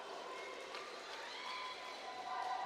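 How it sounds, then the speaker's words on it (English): A distant, faint crowd murmurs and cheers at a UPIS volleyball match, a steady wash of many voices that swells slightly toward the end. "You can hear the excitement in the UPIS crowd."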